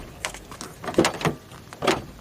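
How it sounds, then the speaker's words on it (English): Door of a 2013 Mazda6 under repair being shut, a few short mechanical clunks and latch clicks, close and moderately loud, with a final firm thud near the end. "as you can see, the door closes"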